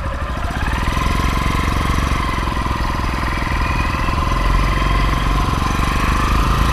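A Motoped survival bike engine drones loudly and steadily while riding, a rough, buzzing motor with a constant pulsing beat and no voices over it.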